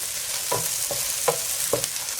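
Crushed garlic and ginger sauté in a pan for a beef liver roast, a steady sizzling hiss broken by four stirring scrapes at a regular pace, close and moderately loud with no talk.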